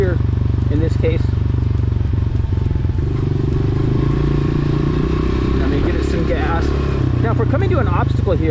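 A dirt bike rides across a grass field, its engine droning loud and close with a low steady rumble that shifts in pitch, while someone talks over it.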